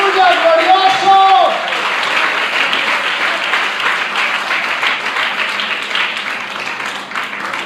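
A church congregation applauds through a sermon, a sustained, even wash of clapping with a voice shouting briefly at the start.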